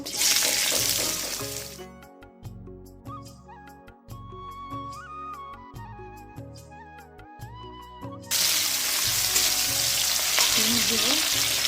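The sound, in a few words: frying beans and vegetables for fried rice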